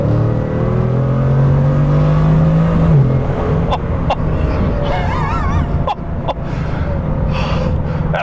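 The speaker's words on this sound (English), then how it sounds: "even just tapping the throttle, you can hear the engine start to do its thing" A Bugatti Chiron engine revs as the throttle is tapped, a rising then falling tone over a steady rumble, with sharp clicks and rustling near the microphone.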